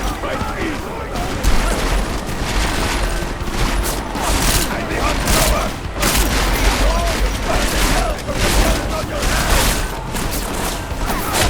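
Video game gunfire in Deus Ex: Mankind Divided, with dense bursts of shots and crashing impacts layered over loud game effects, rising and falling in waves over several seconds.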